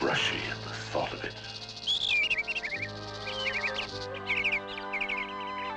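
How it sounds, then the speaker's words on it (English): A tailor bird and its mate at a leaf-stitched nest in an animated film give quick, high chirps and twittering calls in short bursts over soft background music. "It was Darcy, the tailor bird, and his wife on the beautiful nest"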